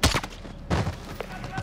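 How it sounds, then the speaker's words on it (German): Gunfire in the video game Call of Duty Modern Warfare: two loud, close bursts of shots with a sharp crack at the start and another burst shortly after, with smaller reports trailing between them. "Guter Schuss."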